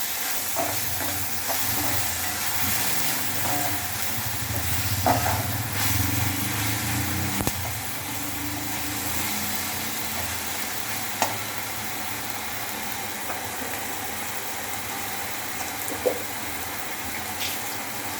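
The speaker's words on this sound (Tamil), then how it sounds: "இஞ்சி பூண்டு, வெங்காயம், இந்த பேஸ்ட்டை இதில் போட்டுடலாம். இது வதங்கிறது கொஞ்சம் டைம் எடுக்கும்." Onion, ginger and garlic paste sautés in oil, producing a steady, moderately loud sizzle with occasional faint stirring scrapes. It runs unbroken and has no talking over it.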